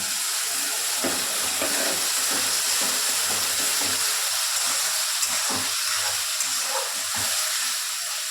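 Chopped tomato and masala frying in a pan with a splash of water, giving a steady bright sizzle and hiss with small bubbling pops, continuous and close up.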